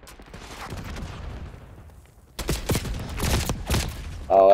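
AK rifle bursts in a Call of Duty match. Scattered rapid shots come first, then after a brief lull comes a louder, closer run of sharp cracks in short bursts.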